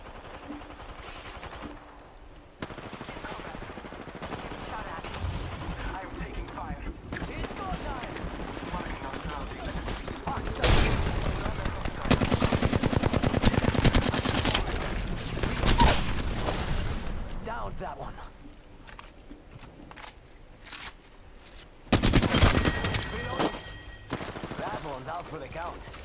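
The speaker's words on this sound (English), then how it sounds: "Shots fired at me." Video game gunfire in bursts, rapid automatic volleys and single shots that swell loudly at intervals amid other game noise, with a player talking over parts of it.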